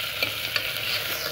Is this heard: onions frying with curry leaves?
yes